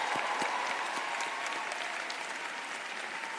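Dense, steady applause from a large crowd of graduates at a university commencement ceremony, sustained clapping at a moderate distance with no voices standing out.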